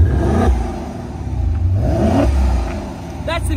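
A Maserati Quattroporte Trofeo engine revs in Corsa mode, rising and falling in loud, close surges under a steady rumble, with brief talk mixed in.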